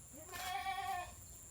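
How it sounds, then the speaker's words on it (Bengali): A single goat gives one drawn-out wavering bleat at moderate distance, rising then fading, as it is led over to be tied up on a rural homestead. "আখি ছাগল নিয়ে আসতেছে মনে হয় বান্ধার জন্য।"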